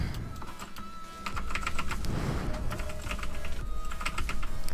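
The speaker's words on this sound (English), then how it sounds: "So if you guys hear my keyboard, it's pretty loud. It's a mechanical keyboard." A loud mechanical computer keyboard clatters with dense, rapid keystrokes close to the microphone during a Minecraft PvP session, the fast tapping running in bursts with a short lull near the start.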